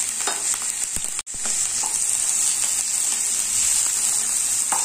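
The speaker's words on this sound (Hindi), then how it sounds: "लौकी को मीडियम आंच में फ्राई करेंगे।" Grated bottle gourd fries in ghee over medium heat with a loud, steady, close sizzle. A spoon stirs and scrapes it continuously, and one brief dropout interrupts the sound. No one speaks.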